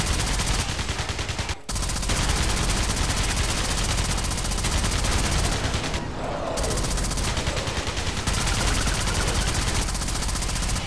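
Rapid automatic gunfire in the top-down shooter Alien Breed played in co-op, a continuous loud rattling barrage with brief breaks, dense and relentless throughout.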